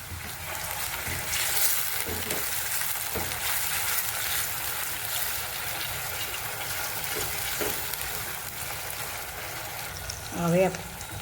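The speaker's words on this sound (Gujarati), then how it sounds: "હવે આપણે ટામેટાં નાખી દઈએ." Tomatoes sizzle in a pan for pav bhaji, a soft continuous hiss broken by occasional scrapes of stirring and a louder clatter near the end, fairly quiet and steady.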